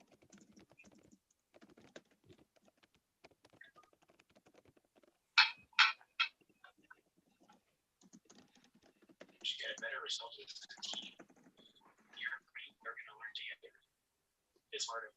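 Computer keyboard typing during a live online competition, soft scattered key clicks at first, then denser bursts of rapid typing in the second half, fairly quiet and close.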